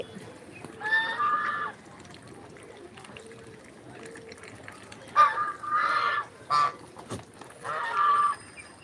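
Several bursts of honking duck calls in short clusters as ducks and chickens feed, fairly close, with pauses between and a faint background murmur.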